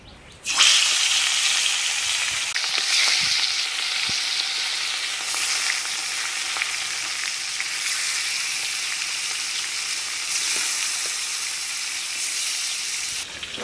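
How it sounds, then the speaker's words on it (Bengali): Fish frying in hot oil for a Bengali lau (bottle gourd) and rui fish dish, a steady loud sizzle with crackling spits that starts abruptly and holds near the listener without a break. "তেল গরম হয়ে গেছে এখন মাছ দিয়ে দেবো"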